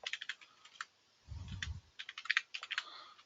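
Quick bursts of clicking keystrokes on a computer keyboard typing a command into a command prompt, crisp and close, with short pauses between clusters of taps.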